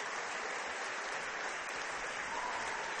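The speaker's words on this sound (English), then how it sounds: "a nice hand from the crowd here tonight" Crowd applauding at a high school boys basketball game in a gym, a steady wash of clapping sustained for the whole stretch, moderately distant, no talking over it.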